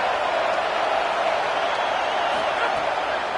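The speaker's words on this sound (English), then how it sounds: "listen to this crowd noise. This stadium is vibrating." Dense, steady roar of a packed stadium crowd during a Florida vs Ole Miss college football video game, a constant loud wash of cheering with no break across the moment.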